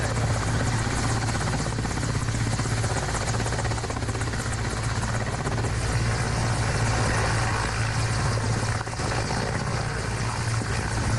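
An air force rescue helicopter's rotor thumps and engine roar loudly and continuously, close and steady throughout, with no voices over it.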